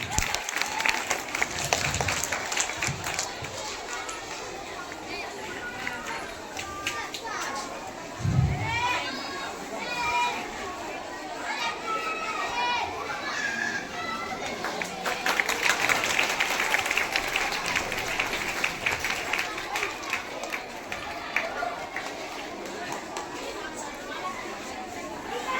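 Sustained audience applause at a school farewell ceremony for a departing teacher in Begusarai, dense clapping blended with crowd chatter and some voices calling out, steady and loud throughout.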